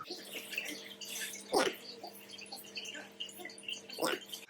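Water pours back into a pot of pumice around a repotted Zygo Volcano Queen plant, with soft trickles and two louder splashing gushes, heard close alongside a speaking voice.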